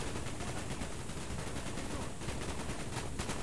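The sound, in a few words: gunfire in the video game Call of Duty: Black Ops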